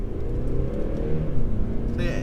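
A 2018 Mercedes C300d cabriolet with a 2.0-litre diesel engine accelerating hard from a launch, the engine droning steadily loud from inside the cabin, with a brief higher whine near the end.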